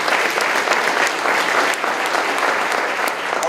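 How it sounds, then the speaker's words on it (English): Dense, steady applause from a breakfast crowd at a McAllen ISD Partners in Excellence event honoring the Board of Trustees, many hands clapping evenly and continuously without speech. "another round of applause for our Board of Trustees for all of their hard work."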